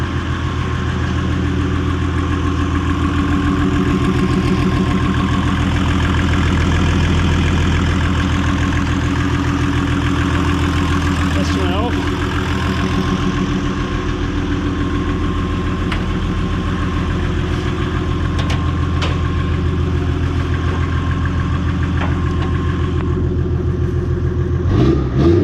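A Mercedes OM606 diesel engine swapped into a Nissan S14 idles steadily, a loud, close, continuous low diesel rumble with even rhythmic clatter and a slight rev near the end, no talking.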